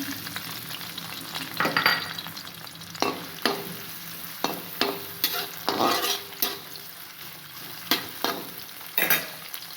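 Onions sizzling in hot oil for a fried-chicken biryani, a steady close crackle broken by louder bursts of stirring and spatter, with no talking.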